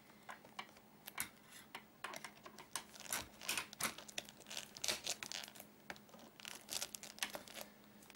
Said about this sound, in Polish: Zrobię jedną ręką nożyczkami.